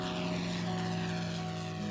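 A P-51 Mustang propeller aircraft flies overhead with a loud, steady engine drone and propeller hum that holds constant throughout.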